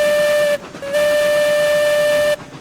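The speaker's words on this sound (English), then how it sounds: "I should have tooted my horn." A steam locomotive whistle in the Railroads Online train game sounds in two loud, steady tonal blasts, a brief one then a longer one, with a breathy hiss between them.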